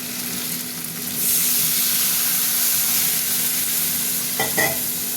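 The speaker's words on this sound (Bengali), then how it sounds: "একটু আলু বেগুন ভাজা হয়ে গেছে, মশলাগুলো দিয়ে দিলাম" Potatoes and eggplant sizzle in hot oil as spices go in, a steady close frying hiss that grows louder after the first second, with a couple of brief scrapes of stirring near the end.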